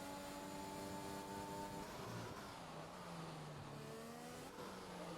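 A Formula 1 race car in F1 2021 at the Dutch GP accelerates with DRS open toward turn 12, its engine a loud, continuous high-pitched whine rising steadily, dipping briefly at a gear change, then climbing again.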